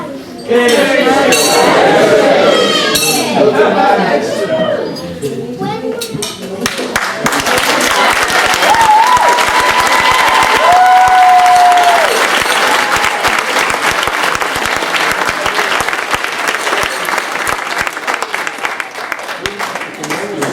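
Loud, sustained applause from a large wedding crowd, with cheering and glasses clinking, continuing for a long stretch while voices talk underneath.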